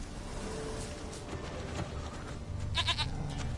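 Goat bleats in The Witcher video game on PS4, short wavering cries rising out of a steady ambient game background near the end, fairly close and clear.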